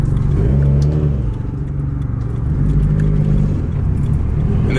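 Subaru WRX engine being driven normally on the street ahead of a dyno tune, a loud, steady low rumble heard from inside the car with slight rises and dips in engine note and no voices.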